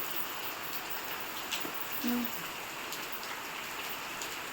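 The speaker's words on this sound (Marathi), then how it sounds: "कोकणातला पाऊस बघा भरपूर चालू आहे" Heavy monsoon rain in the Konkan pours down in a dense, steady hiss, with an occasional faint tone and light tapping in the background.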